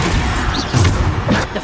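A Bombarda spell blast in Hogwarts Legacy, fought on hard mode during Niam Fitzgerald's trial: loud, close booming impacts, with two heavier thuds about half a second apart over a constant rumble of combat.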